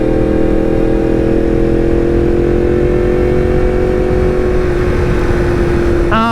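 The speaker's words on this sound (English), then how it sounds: "this bike is so loud" A Yamaha MT-10 motorcycle engine roars loud and steady throughout, a constant close drone with a slowly shifting tone as the bike rides on.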